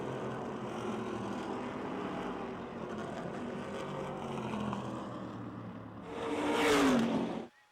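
Modified race cars roar together around the Motordrome Speedway oval, a steady blended engine drone that swells louder near the end as the pack closes in and passes nearby.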